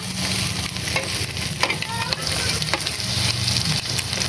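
An ulam dish cooks in a frying pan, oil sizzling steadily while a utensil stirs and scrapes against the pan in irregular clicks, close and fairly loud, with no talk.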